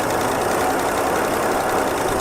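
A 1976 AMC Pacer engine, abandoned for about twenty years, runs in gear with a steady, loud low rumble and a faint knocking roughness throughout, with no talk.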